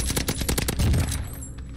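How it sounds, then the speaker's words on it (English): Rapid automatic gunfire in Warzone, fast rattling bursts of shots close and loud, easing off toward the end. "They're both shooting at me."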